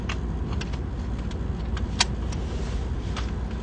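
Interior of a Beijing taxi on the move, with a steady low road and engine rumble and a few light clicks and rattles, no talking.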